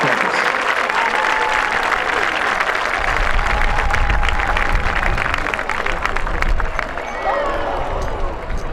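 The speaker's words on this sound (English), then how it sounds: "Come on everyone, come on a cheer." A crowd at the Braemar Gathering, a Highland games event, cheers and applauds for local competitor Fergus Wood. Loud, sustained clapping mixes with shouts and crowd noise throughout, and an announcer's voice carries over it.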